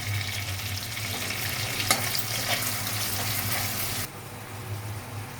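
Onion paste and a spoon of ginger paste sizzle steadily in hot oil with chopped tomato, a close, continuous frying hiss with faint stirring; the sizzle drops slightly quieter near the end.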